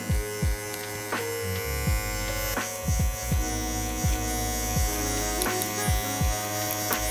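An electric beard trimmer fitted with a 1.5 guard buzzes close up while trimming a beard, a steady hum broken by repeated short strokes and brief pauses as the blade is lifted and set back down.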